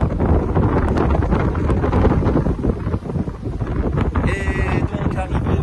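Strong wind at sea buffets the microphone aboard a Grimaldi ferry on a sunny day, a loud, continuous roaring rumble with gusty swells; a voice talks over the wind.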